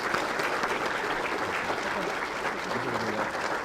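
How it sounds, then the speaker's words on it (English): Audience at a city's State of the City event applauding its city council, a dense, steady wash of clapping from a crowd that holds evenly for several seconds. "let's give a round of applause for our city council"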